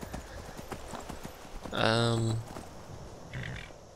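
Horse hooves clopping over mountain ground in Skyrim, a quick steady gait with a whinny midway, heard under someone talking.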